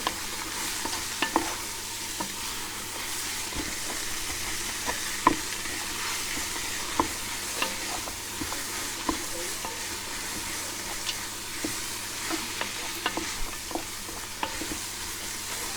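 Paella ingredients with smoked paprika are stirred in a Ninja Foodi, a steady fry-sizzle hiss under scattered scrapes and taps of the spoon against the pot, close and moderately quiet throughout, with no talking.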